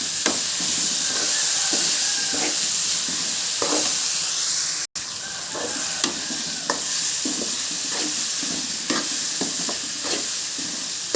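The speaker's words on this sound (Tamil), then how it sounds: "தக்காளி நல்லா வதக்கிக்கலாம்." Tomatoes and onions sauté in a pan for a bottle gourd kootu, giving a steady frying sizzle with repeated stirring scrapes and clicks throughout, close and fairly loud, with no talking.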